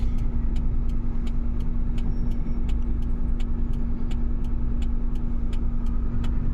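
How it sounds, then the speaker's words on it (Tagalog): Road traffic rumbles steadily at close range as cars pass, a loud, continuous engine drone with a faint regular ticking on top and no talking. "Traffic."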